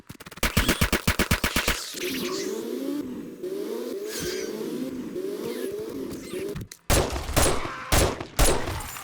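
Rapid automatic gunfire shooting at zombies in the video game 7 Days to Die, a loud, fast burst of shots, then a stretch of engine-like drone and scattered effects, and more bursts of shots near the end.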